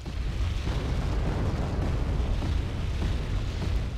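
Rocket artillery pounding targets in the video game Wargame: Red Dragon, a continuous rumbling barrage of overlapping low explosions and booms that stays loud and dense throughout.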